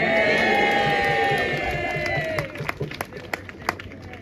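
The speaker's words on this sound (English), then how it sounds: "So a round of applause for her." Crowd applause and cheering at a Linlithgow Marches 2022 gathering, loud and sustained for about two seconds before thinning into scattered claps and whoops.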